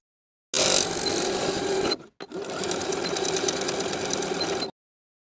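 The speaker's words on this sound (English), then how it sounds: "sewing a row of dense zigzag stitches vertically on top of the band and the elastic, on both sides" A sewing machine runs fast, close and loud, stitching dense zigzag over swimsuit band and elastic in two continuous runs separated by a brief stop.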